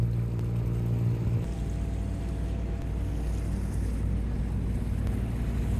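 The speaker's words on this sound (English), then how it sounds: "We are Paige and Daniel sailing our 38-foot catamaran with our Great Dane Winston" A 38-foot sailing catamaran under way at sea, heard as continuous loud wind rush and water noise with a steady low rumble and no talk.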